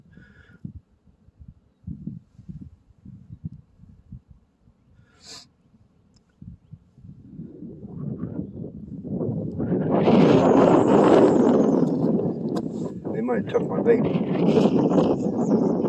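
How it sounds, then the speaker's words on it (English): Wind buffets a phone microphone out on a frozen pond while ice fishing, a loud, rough, continuous roar that builds in the second half after someone speaks briefly over quieter gusts. "Sorry about the wind, guys."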